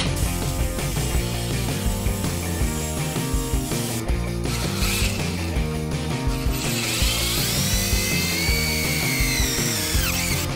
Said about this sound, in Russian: У нас есть только сверло, поэтому мы сделаем круглую дырочку.